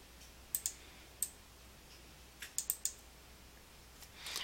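A computer mouse gives a handful of sharp, quiet clicks, single and in quick pairs, spread across a low background hiss.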